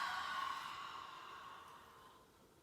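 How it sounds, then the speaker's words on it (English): A long mouth exhale after a big nasal inhale during a yoga class, a steady breathy whoosh that slowly fades over a couple of seconds, close and soft. "Again, big inhale through your nose. Open your mouth and exhale."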